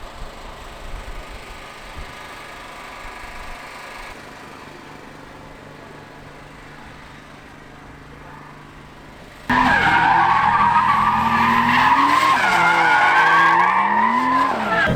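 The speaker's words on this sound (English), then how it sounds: "Not pulls, but we're just first gear donuts" A drift car running an ECU Master engine management system does first-gear donuts at Harris Hill in Austin, Texas, during a drift day. A quiet stretch gives way to a sudden loud, sustained tire skid with a revving engine, close by.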